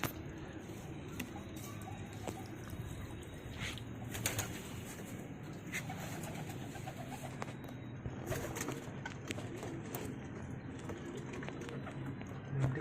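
Pigeons coo steadily and softly in a coop during a chick-swapping experiment, with a few light wing flutters and rustles, and no talking.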